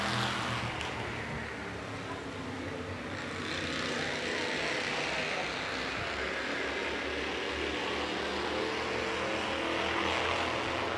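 Bandolero race cars run together on a track, their engines making a continuous mid-distance roar that swells slightly as the field passes, with faint commentary underneath.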